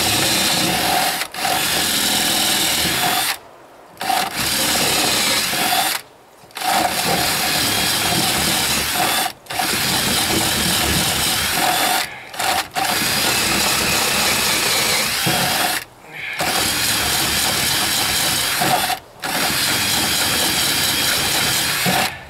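A power drill drilling through metal runs loud and continuous in long bursts, briefly stopping several times before starting again, close up with no voices.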